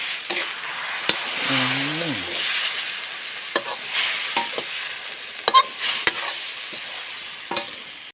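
Canned fish and egg being stir-fried in a pan, with a steady sizzle and repeated clinks of a utensil against the pan, plus a brief whistling sound partway through.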